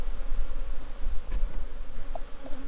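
Honey bees drone continuously inside a shaker box after being shaken in, a steady close hum with faint knocks and no voices.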